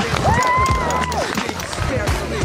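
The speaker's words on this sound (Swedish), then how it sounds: "Ja, en stor applåd för Oskar." Crowd at a night ski-jumping competition on a hill applauds and cheers for a jumper, with a steady wash of clapping, a few bright whistles or shouts rising above it, and murmured voices mixed in throughout.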